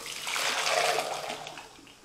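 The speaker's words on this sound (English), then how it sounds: "we're going to strain out the solids" Simmered ginger-lemon tea is poured through a strainer into a measuring cup, a brief close splashing, trickling stream of liquid that swells and then fades.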